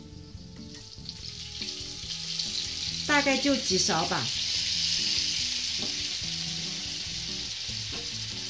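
Dumplings frying loudly in hot oil in a pan, with a burst of harsher sizzling as water is added, followed by a steady, dense hiss; a voice speaks briefly over it.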